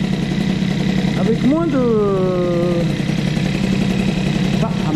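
Moped engine fitted with an Airsal CPI 70 kit and Boost crankcases idles steadily throughout, a constant mid-pitched drone with a brief blip, while someone talks over it.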